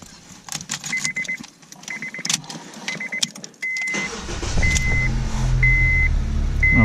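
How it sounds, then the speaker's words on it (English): A 2006 Honda Civic fitted with an Avital 4105L remote starter fires up with a cranking burst, then settles into a steady near idle hum, preceded by a series of short electronic beeps and clicks. "So I'm going to go ahead and start the car."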